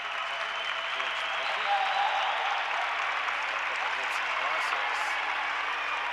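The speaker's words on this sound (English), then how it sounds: "So Terry Kirby will get a well-deserved round of applause from the fans here at the Hampton Coliseum." Basketball fans at Hampton Coliseum applauding a player, a broad, sustained roar of clapping filling the arena evenly from start to finish, with no talk over it.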